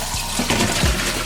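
Water splashing and draining from freshly rinsed apples in a kitchen colander, a loud running, trickling wash with a few heavier gushes, no speech.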